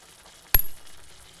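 Water hits a hot pan of ash gourd curry with one short, sharp sizzling hiss that flares up suddenly and dies away within a fraction of a second, against a quiet kitchen background.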